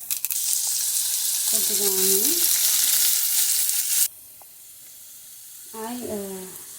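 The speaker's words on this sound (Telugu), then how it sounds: "ఆయిల్ వేడెక్కిన తర్వాత కొద్దిగా జీలకర్ర వేసుకోండి" Cumin seeds sizzling in hot cooking oil in a pan, a loud steady hiss that stops abruptly partway through, with someone speaking briefly over the frying.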